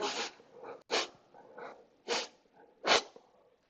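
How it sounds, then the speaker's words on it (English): Series of close, quiet sneezy snorts and sniffles in a quiet room, five sharp bursts spaced irregularly with softer breaths between. "Louise seems to have the sniffles."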